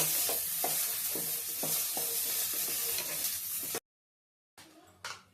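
Whole okra pieces stirred in a few drops of oil in a pan, with a steady sizzle and repeated rhythmic scraping strokes of the spoon, cutting out briefly before resuming.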